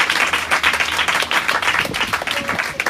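A church congregation claps together in loud, dense, continuous applause, with a few voices mixed in.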